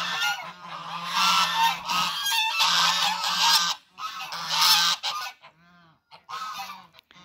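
A flock of farm geese honking loudly in breeding season, with bursts of overlapping raucous honks separated by short pauses and a few quieter calls near the end.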